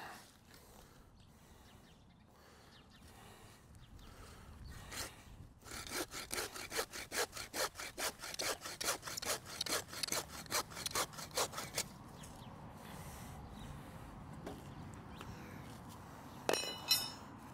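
A handsaw cuts through a pre-cut tree trunk, a burst of quick, rhythmic rasping strokes close by after some quieter scraping, then fading to handling noises.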